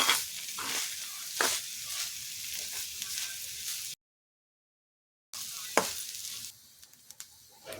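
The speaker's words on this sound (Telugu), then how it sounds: "నెయ్యి కాగిన తర్వాత తురిమిన కొబ్బరిని వేయించుకోవాలి" Grated coconut fries in ghee in a pan for sweet coconut balls, a dense, continuous sizzle broken by stirring scrapes, with a short silent gap midway.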